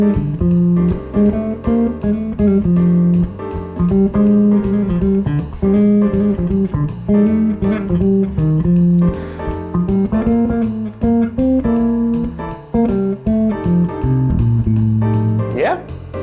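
A bass line outlining blues chord changes with guide tones, moving over a steady groove with drums and accompaniment, continuous and prominent throughout, with a pitch bend near the end.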